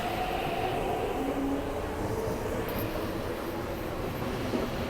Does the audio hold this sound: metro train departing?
yes